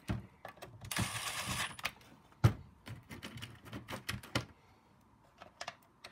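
Screws are driven into a DIY on/off switch fitted to an Ego leaf blower, with a short whirring driver burst followed by a string of quiet mechanical clicks, taps and rattles close by.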